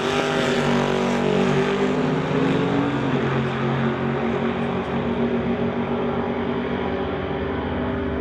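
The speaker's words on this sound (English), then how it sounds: "Dustin Hunter races up to the quarter mile and gets him on the tree" Chevy and Ford drag racing cars in an NHRA Summit ET Series race at Mission Raceway roar steadily at high revs, a loud sustained engine drone heard without any talk.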